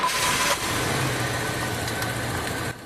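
A car engine runs at a steady, rough idle, up close and fairly loud, with a brief louder burst at the start and no talking.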